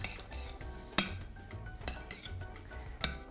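Gentle stirring of beans and parsley in a pan for a bacon, bean and herb salad, with a few sharp metallic clinks of a utensil against the pan over a low simmering background.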